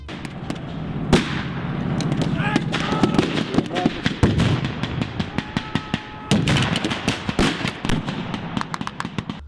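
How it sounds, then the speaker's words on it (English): A Panzerschreck reenactment prop fires a small pyrotechnic charge at a World War 2 battle reenactment, one sharp report amid rapid crackling pops and bangs from other blank fire, mixed with distant voices. "If they have a bazooka, Panzerschreck, Panzerfaust, they'll put kind of a small charge in there to shoot out some smoke and make a little noise"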